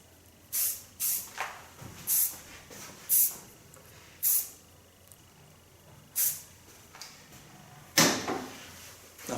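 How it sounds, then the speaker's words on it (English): Hairspray from an aerosol can misted onto a short feminine pixie haircut, coming as about ten short, sharp hissing bursts in an uneven rhythm, close and clear with no talking. "Take a little bit hairspray."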